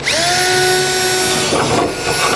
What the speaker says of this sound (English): We're going to take our 4 holes that we drilled and we're going to open them up to full size